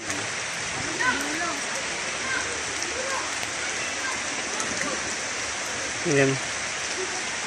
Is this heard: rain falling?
yes